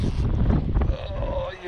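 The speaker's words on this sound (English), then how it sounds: "Look at this wind." Strong wind buffets a microphone outdoors during channel catfish fishing from a boat, a steady low roar throughout, with water movement and a voice talking faintly beneath.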